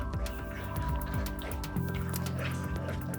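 Melted caramel and cream are stirred in a pot on the stove, giving soft wet squishing and dripping sounds with irregular small clicks, close and fairly quiet, no voices.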